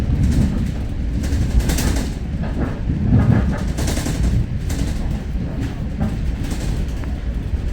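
Steady, loud rumble inside an original Bombardier commuter train carriage slowing into Dorval station, with rhythmic clacking and rattling, continuous throughout as it rolls along.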